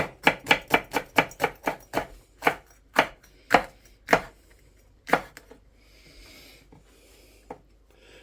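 Knife chopping a couple of sweet peppers on a board for a slow-cooker venison stew, a quick run of crisp close taps that slows into sparser single cuts, then quiet.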